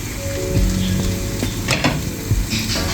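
Loud sizzle of keema frying with tomatoes in a pan, with a spoon scraping and clinking against the metal now and then and a brief stirring burst midway; no talking.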